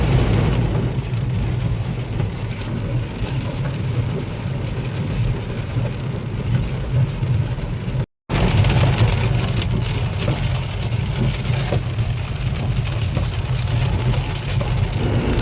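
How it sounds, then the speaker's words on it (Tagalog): Heavy rain pours down in Saudi Arabia, a dense, loud, constant hiss of water hitting surfaces, with a brief cut partway through and an engine-like rumble underneath. "Maririnig mo sa video natin na ang lakas po ng buhos, ang lalaki pa ng tutil ng ulan"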